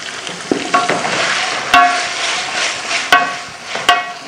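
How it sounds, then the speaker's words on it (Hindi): Garlic, ginger and shredded meat fry in a pan for haleem, a continuous sizzle broken by several sharp clanks of a ladle stirring against the pan, close and fairly loud. "इसको थोड़ा भून लेते हैं लहसुन अदरक को। इसमें जो हमने गोश्त के रेशे किए हैं वो डाल दें।"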